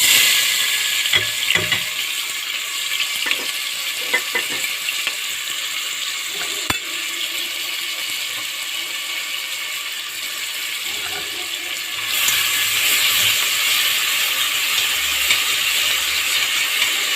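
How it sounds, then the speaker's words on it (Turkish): Steady frying sizzle of diced onions in hot oil with salt, sautéed for okra stew, with occasional stirring clatter and a louder hiss toward the end; no one speaks. "soğanımızı bir 5 dakikalık şöyle bir kavuralım"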